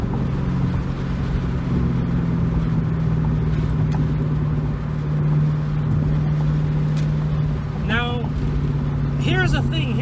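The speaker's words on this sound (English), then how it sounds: "The fun fact about this exhaust is that it is a SLP loudmouth 1s, and it still has the cats, and it still has the stock H-pipe" A Ford Mustang V8 idles with a steady, deep burble through SLP Loudmouth mufflers with catalytic converters and the stock H-pipe, heard close up with a few brief higher chirps near the end.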